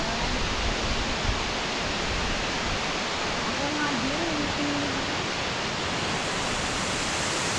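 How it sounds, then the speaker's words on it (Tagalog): A waterfall on a mountain hiking trail in Taiwan's Wuling area roars as a loud, steady broadband rush of falling water, close and continuous, with a voice briefly heard over it. "Tingnan nyo, ang ganda ng waterfalls."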